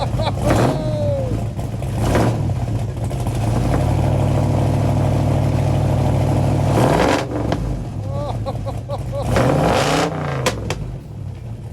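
Classic old Ford Mustang engine revving hard in repeated bursts, a deep sustained roar building and falling between blips, close and loud, with people talking and exclaiming over it.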